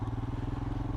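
Single-cylinder Royal Enfield Himalayan motorcycle engine from 2020, rated at 24.5 horsepower, chugging steadily with a rapid, even thump close by.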